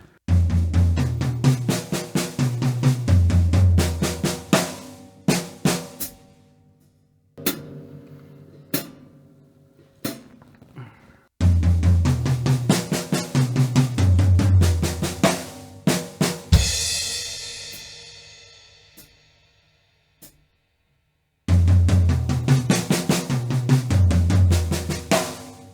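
Drum set fill of triple stroke rolls played across the toms, dense rapid strokes in loud bursts with cymbal crashes and pauses between repetitions.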